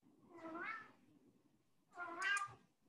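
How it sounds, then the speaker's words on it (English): A house cat meows twice, close and clear, each a rising and falling call separated by a short pause. "My cat was saying hi."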